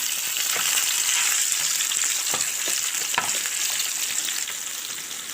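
Meat frying in a hot pan, a continuous bright sizzle close by, with a few soft scrapes and knocks as pieces are turned over; no talking.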